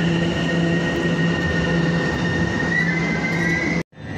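A Class 710 electric train at Barking station produces a loud, steady rumble with a sustained high whine and faint wheel squeal close by, cutting off abruptly near the end.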